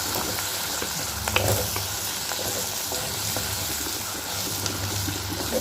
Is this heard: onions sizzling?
yes